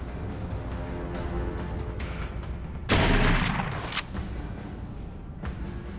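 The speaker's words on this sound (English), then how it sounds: "God, shotgun satisfying." A shotgun fires in the zombie video game The Walking Dead: Saints and Sinners, one loud, sharp blast followed by a shorter report about a second later, over a background of quieter game clatter and footsteps.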